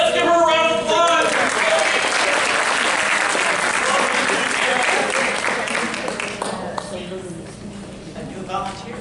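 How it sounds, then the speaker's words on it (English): Applause from an audience as a volunteer comes up on stage at a live show, loud and dense at first with a voice over it, then thinning out and fading toward the end. "Let's give her a round of applause."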